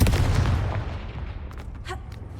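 A Confringo explosive spell from Hogwarts Legacy bursts with a loud boom at the start, its rumble decaying over a couple of seconds while faint magical crackles flicker later.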